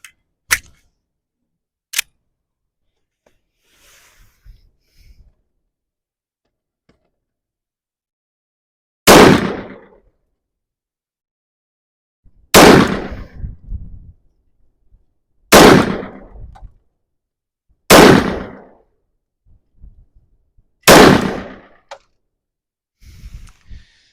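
Pistol shots from an M&P 5.7 and a PSA Rock fired outdoors in a slow series, two sharp cracks followed by a pause and then five louder, evenly spaced reports with short echoing tails.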